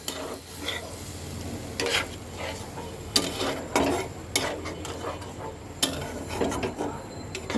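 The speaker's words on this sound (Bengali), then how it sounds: "দেওয়ার পরে সাথে সাথে কিন্তু নাড়তে হবে" A spoon scrapes and stirs thickening gravy with cornflour and sugar in a pan, irregular clinks and rasping strokes over a soft background sizzle, close and moderately loud with no talking.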